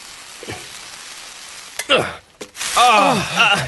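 A dish is flipped in a hot pan, bursting into loud sizzling after a brief clatter, with a person's voice groaning or speaking over the frying.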